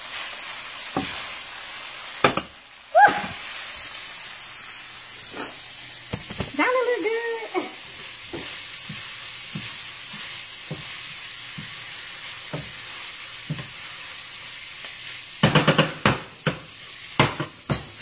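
Leftover spaghetti sizzles steadily in a hot pan on a home stovetop while a utensil stirs and scrapes it, with sharp clanks against the pan near the start and a burst of knocks toward the end.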